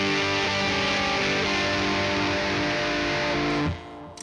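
Electric guitar through a pedal set to a dirty, moderately gained distortion that is lighter than a heavy setting, ringing in sustained chords that fill the clip before cutting off near the end, with no talk.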